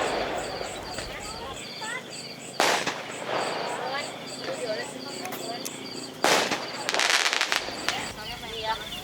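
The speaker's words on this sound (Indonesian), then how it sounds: "Sepertinya sudah ada yang mulai itu nyalain kembang api ya." Distant firecracker pops and bangs crackle intermittently on New Year's Eve at a campground, over a busy outdoor background with chirping birds and people talking nearby.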